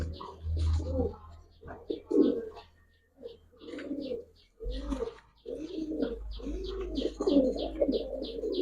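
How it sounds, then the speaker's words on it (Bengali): Giribaz and racer pigeons coo in short, repeated bursts among a collection of birds, close and moderately loud, with someone talking over much of it. "এগুলো হচ্ছে গিয়ে কবুতর ভাই"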